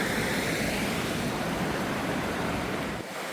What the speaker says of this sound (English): This is the Niso-Wadnehunk brook, stream, or river.